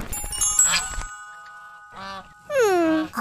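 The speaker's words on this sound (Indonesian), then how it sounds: "Angsa Atuk terlepaslah tu." An escaped goose honks in a loud, drawn-out nasal call near the end, after a brief clattering burst and a quieter honk, in an animated cartoon scene.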